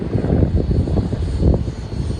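An E-flite Habu STS radio-controlled jet passes overhead with a steady, moderately loud whooshing drone that swells slightly around the middle and holds throughout, with no voices.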